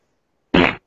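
One short, loud fart sound effect, a single buzzing blast lasting about a quarter second, dropping off abruptly into silence.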